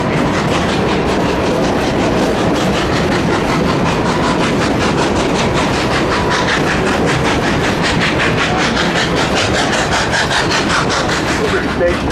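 Chama scenic narrow-gauge train running on rails at a high mountain pass, a steady loud rhythmic clatter of wheels over rail joints with a continuous rumbling roar, close and unbroken throughout.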